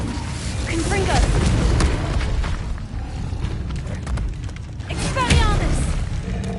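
Blasting spell explosions from Hogwarts Legacy: deep booming bursts with rumbling low thuds and crackling, two heavy surges separated by a brief lull, loud and dense.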